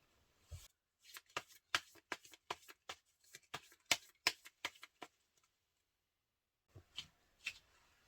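Tarot cards are shuffled and drawn: a quick run of crisp, close riffling snaps and taps, then a short pause and a few last flicks, with no talking.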